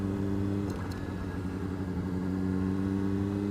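A Honda CBR600RR sports motorcycle's engine runs steadily while riding, a continuous mid-pitched hum with a slight rise in revs partway through, close and fairly loud with no talk over it.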